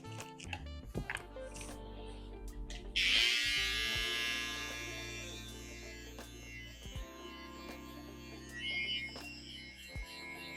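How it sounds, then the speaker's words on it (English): Electric hair trimmer cutting a guideline during a mid taper haircut, a close buzzing hum that rises as the blade meets hair, then steadies and fades with small pauses, quiet overall. "I'm gonna put a ball guideline in with my trimmer."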